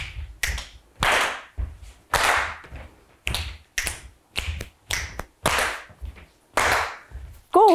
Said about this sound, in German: wir schnipsen viermal und klatschen dann zweimal